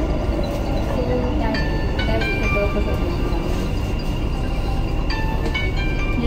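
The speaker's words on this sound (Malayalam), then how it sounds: "പൂണിനിൽ നിന്ന് നമ്മൾ ട്രെയിൻ കയറി, ഇപ്പോൾ ബുർജുമാൻ എത്തി." Riding inside a Dubai metro train: a steady, loud rolling rumble fills the carriage throughout, with faint metallic squeals and tones rising over it.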